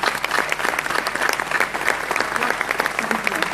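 An audience in a debate hall breaks into applause, a dense, lively burst of many hands clapping close and loud for a few seconds, with faint voices mixed in.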